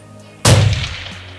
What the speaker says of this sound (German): Ich habe jetzt 3 Schüsse gemacht